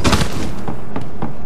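Gunfire in Resident Evil 2: four loud, booming handgun-style shots spaced roughly evenly over a second and a half, close and alone without talk.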